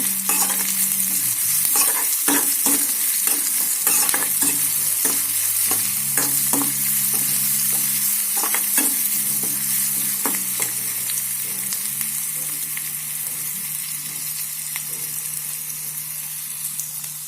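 Onions and garlic fry in hot oil in a pan after mustard seeds and cumin, sizzling steadily and loudly while a spoon scrapes and stirs in repeated strokes, with no talk.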